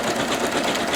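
A Singer Legacy SE-300 embroidery machine quilts an in-the-hoop design, giving a steady, dense mechanical whir of rapid needle strokes at close range, continuous and alone with no voices.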